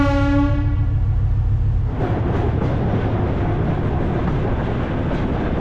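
A sleeper train rolling from Kazakhstan toward the Kyrgyz capital, first a sustained tonal hum, then a steady rumbling clatter of wheels on track, close and continuous.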